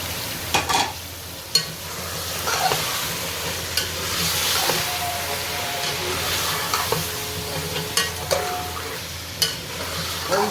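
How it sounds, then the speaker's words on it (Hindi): Tomatoes and green chillies frying in a pan with garlic and ginger, a steady sizzle punctuated by sharp stirring clanks at irregular intervals, no talk. "तो अब हम इसमें डालेंगे टमाटर और सब्ज़ मिर्च डाल देंगे"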